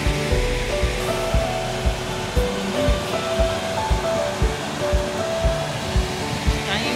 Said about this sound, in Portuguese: ali é a cabeceira da Cachoeira Danta